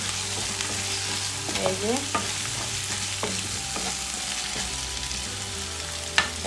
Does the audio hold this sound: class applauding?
no